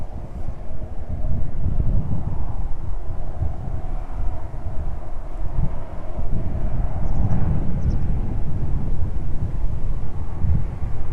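A 14-year-old Boeing 737-800 lands at East Midlands Airport, a continuous low jet roar and rumble rolling on steadily, mixed with heavy wind buffeting on the microphone.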